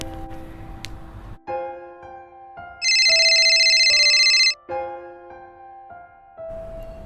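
A melodic phone ringtone plays for an outgoing call in a repeating pattern of electronic tones, interrupted midway by a loud, buzzy high-pitched alert burst, with no talking.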